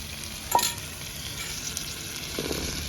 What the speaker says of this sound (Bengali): সেদ্ধ করে রাখা কাঁঠালে আটি দিয়ে আর একটু কষে নেব চিংড়ি